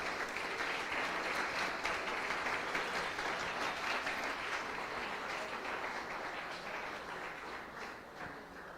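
Audience applause following a presentation on an IoT system design, a steady, fairly quiet wash of many hands clapping that tapers slightly toward the end.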